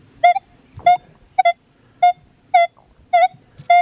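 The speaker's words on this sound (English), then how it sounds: "So we've got signal there, don't we?" A Deus 2 metal detector with HF2 coil gives a series of seven short, bright electronic tones pulsing at a steady rhythm, each a clear harmonic beep with quiet hum between them.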